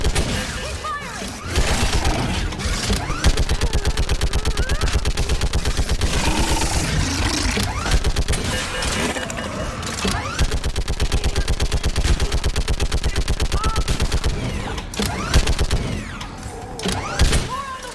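Sustained rapid gunfire rages through a Mass Effect 3 battle on Thessia, dense machine-gun bursts and impacts hammering almost nonstop at close range, with shouted voices mixed in underneath.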